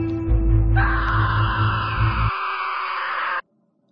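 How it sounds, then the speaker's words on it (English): Screams ring out from a nursery: a loud, sustained wailing cry over a deep rumble. The rumble drops away partway through, and the scream then cuts off abruptly, leaving silence. "Those screams sound familiar."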